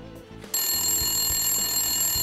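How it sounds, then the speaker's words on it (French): A telephone rings loudly in a home kitchen while chicken cooks in the oven, its electronic bell starting abruptly and repeating in a steady pattern with no talking. "vous entendez le téléphone?"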